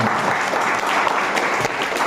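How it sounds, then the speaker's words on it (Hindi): A church congregation claps together during a sermon, producing a steady wash of applause that holds loud and even for a couple of seconds. "एक बार ताली बजा देंगे"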